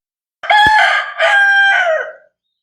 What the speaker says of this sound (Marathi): एकदम शांतता, कोंबड्यांचं कुकडू आणि पाखरांचा आवाज येतोय.